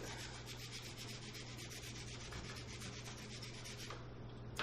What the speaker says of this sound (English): Grate a little garlic in there